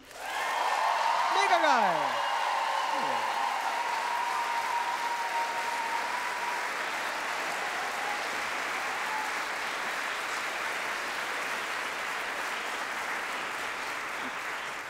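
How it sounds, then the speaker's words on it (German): Sustained audience applause at a live comedy show fills the room with dense, steady clapping and some cheering for the whole stretch. A voice calls out briefly near the start. "Wenn ihr meint, Gärtner ist ein mega geiler Beruf, Applaus bitte jetzt."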